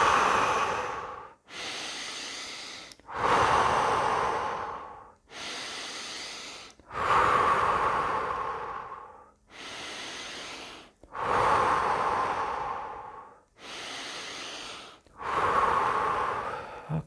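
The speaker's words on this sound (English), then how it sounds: "I just did 5 deep breaths" A person takes five deep breaths, each long rushing inhale followed by a slightly softer exhale, close to the microphone in a slow, even rhythm with short gaps between.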